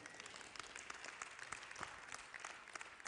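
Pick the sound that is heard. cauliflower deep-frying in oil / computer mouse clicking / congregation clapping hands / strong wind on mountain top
congregation clapping hands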